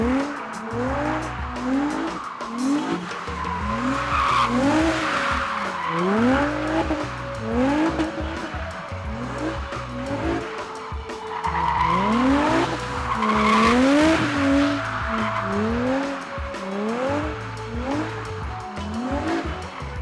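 An Infiniti G35 drifts on a street using the e-brake, and its tires squeal and skid in long repeated screeches over a revving engine. The sound is loud and sustained, rising and falling in cycles, with no talking.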